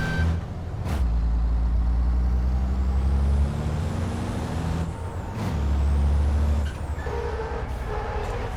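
Air brakes hiss repeatedly from a racing truck in the FIA European Truck Racing Championship video game, sharp bursts cutting over a loud, steady diesel engine drone with a rising and falling whine.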